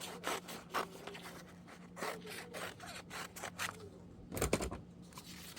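Scissors snip through paper Halloween tags for a junk journal craft, a string of short, crisp cuts with brief rustles of paper between them, close and fairly quiet with no talking.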